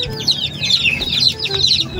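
Young chicks being fed, giving a rapid, busy flurry of high peeps and soft clucks. The sound is close, loud and nearly continuous, with overlapping calls from several birds.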